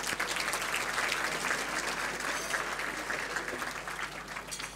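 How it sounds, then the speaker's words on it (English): An audience at a winter gala dinner claps steadily for about five seconds, a dense, even wash of many hands in a large room, moderately loud and with no voices over it. "Round of applause, please."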